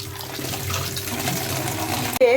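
Maggi noodles being rinsed under cold running water from a tap, a steady close splashing stream that runs continuously and then cuts off abruptly near the end.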